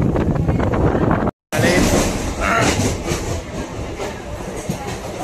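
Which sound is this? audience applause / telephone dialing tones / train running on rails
train running on rails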